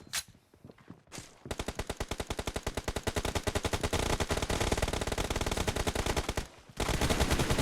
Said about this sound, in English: Killing spree for the blue team! Reloading.